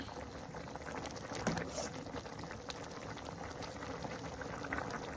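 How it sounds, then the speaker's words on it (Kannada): A pot of tender jackfruit curry boils steadily, a continuous bubbling simmer at low level with no voices, heard up close. "ಈ ಥರ ಕುದಿ ಬಂದಿದೆ ಫೈನಲಾಗಿ."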